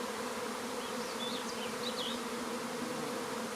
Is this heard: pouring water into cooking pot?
no